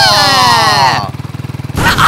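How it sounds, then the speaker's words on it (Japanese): Motorbike engine in the Minecraft game, a steady revving drone with a pulsing low-end rhythm that carries through the whole stretch, loud and close, with a brief voice at the start. "ほらバイクに乗ってごらん。"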